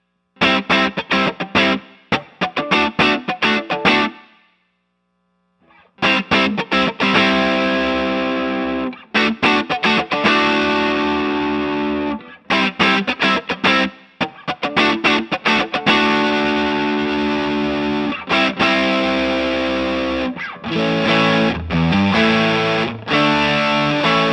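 Loud, saturated electric guitar through an overdrive pedal with Schottky clipping diodes, playing chords and riffs, with a brief silent gap early on, then continuing in choppy strummed bursts.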